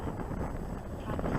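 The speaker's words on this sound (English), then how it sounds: "I didn't think there'd be anybody here flying today because one, it's windy." Gusty wind at a radio-control model airplane flying field, blowing as a steady, close, rumbling roar across the microphone with no break for the full moment.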